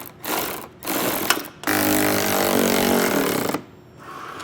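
A nut being tightened on a trailer bracket on a 2024 Jeep Wrangler: short bursts of ratcheting and buzzing, then a longer continuous rattling run of a power tool, close and fairly loud.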